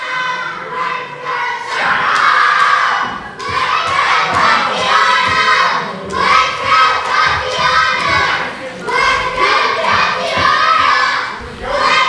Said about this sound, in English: I think this crowd is actually inciting Charlie Kruel even further.